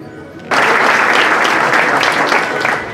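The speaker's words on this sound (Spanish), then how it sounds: "Vamos a brindarle un fuerte aplauso." Loud audience applause bursts in after a brief quiet start and carries on steadily, a dense wash of many hands clapping at a public health week launch event in Tecpan, Guerrero.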